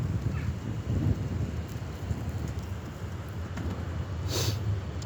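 Strong wind blows outdoors on a cold morning, a steady loud rumble buffeting the microphone, with brief faint bird calls far off.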